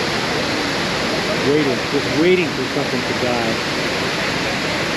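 Iguazu Falls thunders as a constant, dense wash of falling water, a steady roar filling the background while someone talks briefly over it.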